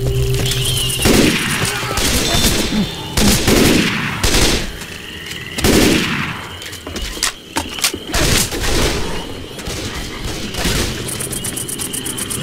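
Dense, loud gunfire in Left 4 Dead 2 during the Swamp Fever Shantytown level, rapid overlapping bursts and shots continuing throughout with little pause, voices heard faintly.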